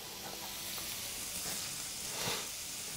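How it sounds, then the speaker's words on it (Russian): Shrimp, already off the heat, sizzle softly in a frying pan, a steady faint hiss with small crackles and a light clink at the end. "Видите, они продолжают у меня жариться, ну, догреваться на сковороде."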